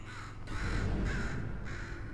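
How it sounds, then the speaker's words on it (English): Bird in the Portal 2 video game cawing three times in a crow-like rasp, evenly spaced and fairly close, over a low ambient hum. "Could you murder this bird for me?"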